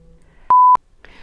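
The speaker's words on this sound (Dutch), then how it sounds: "Oh, mijn telefoon gaat." A phone rings in a single loud, short electronic beep tone close by, with quiet room background before and after.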